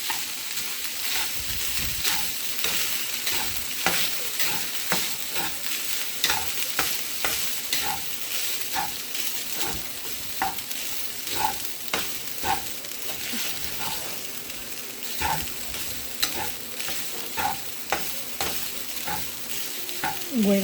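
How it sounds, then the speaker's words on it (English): Rice frying in oil in a pan for shrimp fried rice, a steady sizzle broken by repeated scraping and clinking strokes of a utensil stirring at a fairly regular rhythm, heard up close. "So we're gonna fry the rice a little bit."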